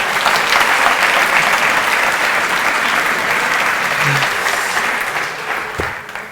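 Loud, enthusiastic audience applause for a volunteer named Carmen after a quick mental-arithmetic demonstration, dense clapping that holds strong before gradually tapering off near the end.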